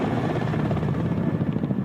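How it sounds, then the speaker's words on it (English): A Ka-27 naval helicopter, a ship-based type commissioned in 1979, flies with a loud steady rotor roar and throbbing low drone filling the whole moment. "This helicopter was commissioned in 1979."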